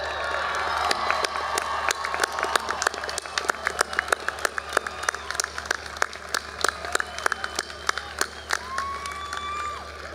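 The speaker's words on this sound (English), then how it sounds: "thank all these folks with an exuberant round of applause" Graduates at a Chico State commencement ceremony give an exuberant round of applause, dense clapping mixed with scattered cheers and whoops, loud and sustained throughout with crowd noise beneath.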